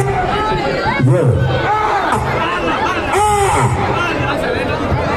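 A large, dense crowd of fans gathered outdoors in Morogoro for Ali Kiba roars in steady hubbub, with rising wavering calls that sound like cheers and ululation, heard close and loud throughout.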